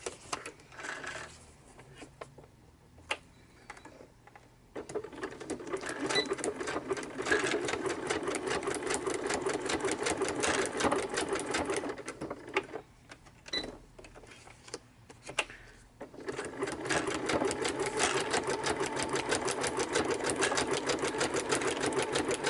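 Sewing machine zigzag-stitching tags onto junk-journal cards, a rapid mechanical needle rattle in bursts of several seconds, broken by short pauses near the start and midway, close and fairly loud.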